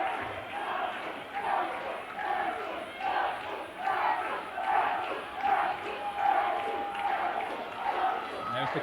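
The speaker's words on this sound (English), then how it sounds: "And there's a Russell chant starting by the crowd." A wrestling crowd chants a wrestler's name in rhythmic, repeated pulses, loud and sustained throughout the arena.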